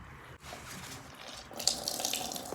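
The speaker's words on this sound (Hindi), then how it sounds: "ये देखें कितना ज़्यादा पानी था इनमें।" Water squeezed from grated radish runs and trickles into a vessel, faint at first and then rising to a fuller splashing stream in the second half, with no voices.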